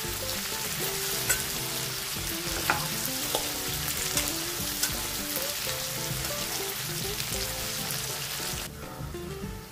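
Sliced okra sizzles and fries in a pan for a Chettinad vendakka mandi, a steady loud crackle with periodic scrapes and clinks of a spoon stirring, ending in a brief quieter moment with no voices.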